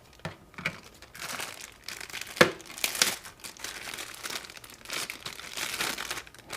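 Crinkling and tearing of plastic packaging as a pair of chrome lighted vent trims for a 2018-2023 Honda Goldwing are unwrapped, close and loud, in repeated bursts with one sharp crunch near the middle.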